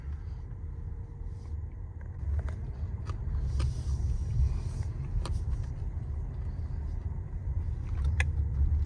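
A Rolls-Royce Cullinan's 6.75-litre V12, nearly 6,000 pounds, hums along steadily as the SUV moves, a continuous low rumble with faint road noise and occasional light knocks throughout.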